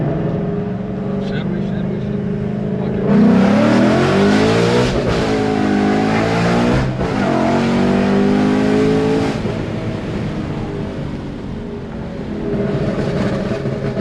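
A Ford Mustang engine tuned for E85 flex fuel hums and rises in pitch as the car accelerates through gears while driving, loud and close, with a person talking over it.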